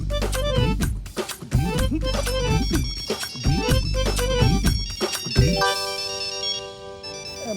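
A mobile phone ringtone plays loudly and steadily, repeating its melodic pattern before shifting to a sustained tonal phrase, with no one answering and no talking over it.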